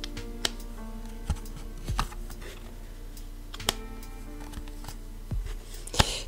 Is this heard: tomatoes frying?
no